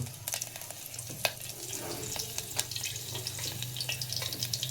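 Dry red chillies fry in oil in a wok for a coriander leaf pickle. A faint steady sizzle carries scattered crackles and pops, with a low hum underneath and no talking.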